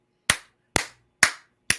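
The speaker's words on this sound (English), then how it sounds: "I had to give an applause to that." Four sharp hand claps in a slow, evenly spaced rhythm, close and crisp, each one ringing briefly before the next, with silence between them and no talk.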